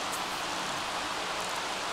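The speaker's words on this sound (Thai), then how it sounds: "อุ้ยเสียงฝนตกดังมาก" Rain in The Sims 3 video game falls as a steady, dense hiss with no breaks, even and moderately loud throughout.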